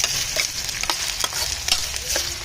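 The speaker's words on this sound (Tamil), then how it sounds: "வெங்காயத்தை போட்டு நம்ம கொஞ்சம் வேக விட்டுருவோம்" Onions frying in a pan for a fish omelette, a steady close sizzle with occasional scraping and stirring sounds and no talking.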